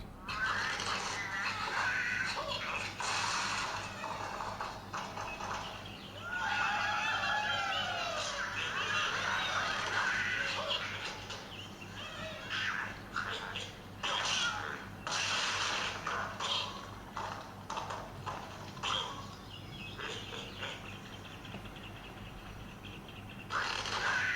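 Cartoon bird calls and squawks from the Angry Birds game played on a Nokia Lumia 520 phone, chirping and honking bursts over steady game music and effects, moderately loud.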